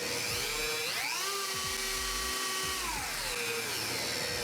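A high-pitched rotary tool spinning at its highest speed setting whines steadily, its pitch rising and dipping as the speed changes, close and loud throughout.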